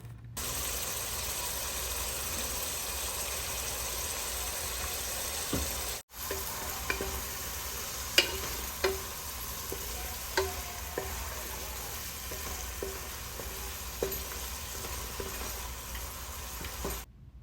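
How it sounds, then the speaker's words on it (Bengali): A paste of ground onion, garlic, ginger and cumin, with turmeric and dried chilli, sautés over low heat in a steady sizzle. After a short break, a spoon stirs and taps the pan at irregular moments. "পেঁয়াজ, রসুন, আদা ও জিরে দিয়ে একসঙ্গে বেটে রাখা মশলা এবং হলুদ ও শুকনো লঙ্কা পরিমাণ মতো দিয়ে হালকা আঁচে কষাতে হবে"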